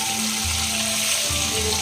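Hilsa fish cooks in hot oil, giving a steady, close sizzle and hiss that runs unbroken through the short moment, with a low hum beneath and no talking.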